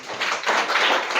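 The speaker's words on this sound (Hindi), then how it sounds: "ताली बजाओ।" A group of children in a classroom clapping hands together, a dense burst of applause with rapid overlapping claps, loud and close, lasting about a second.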